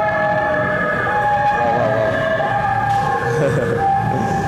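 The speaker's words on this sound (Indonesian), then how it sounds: "Ada ambulan teman-teman ya." An ambulance siren passes on the street beside a parked Honda CB 150R Special Edition motorcycle, a loud wailing tone that sweeps in pitch over steady traffic rumble.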